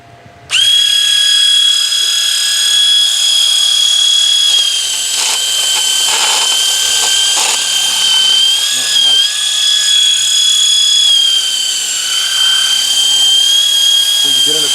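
A powered contour sander whines steadily at high pitch for many seconds against a wooden pole, close and loud, its tone wavering slightly as it works.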